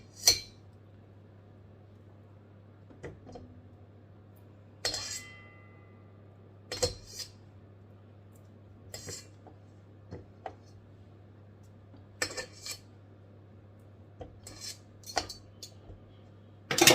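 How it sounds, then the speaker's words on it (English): A knife cuts butter into pieces in a dish, producing sparse, irregular sharp clinks against the dish over a quiet steady hum. "So I'm just going to cut the butter a bit into smaller sizes so that it can easily mix."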